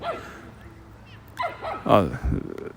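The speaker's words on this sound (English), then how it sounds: "Let these dogs shut up" Several dogs barking and yelping outdoors, a few yips at first, then a louder cluster of sharp barks and whines building toward the end, heard under a man's speech.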